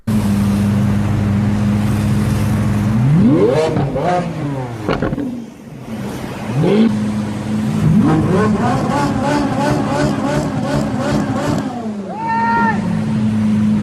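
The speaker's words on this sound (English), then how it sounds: "This guy was revving the engine of his Lamborghini to show off when it suddenly caught on fire." A Lamborghini engine revving hard while parked to show off, shortly before it catches fire: loud, close, repeated throttle blips rising and falling over a steady idle, with several sharp revs in a row.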